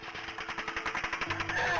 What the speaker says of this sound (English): The officers are pinned down by automatic gunfire.